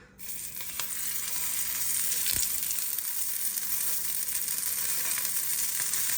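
A bean burger sizzles steadily in a little oil in a pan, a continuous close frying hiss that starts abruptly and holds even, with a faint utensil tap partway through.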